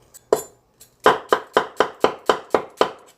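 Half an onion is sliced with a knife on a cutting board, a quick steady series of about nine crisp, close chopping strikes after a couple of tentative taps, with no talking.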